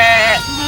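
Sheep in a hillside valley pasture bleating, a single loud, close, quavering bleat that tapers off, with faint background sound.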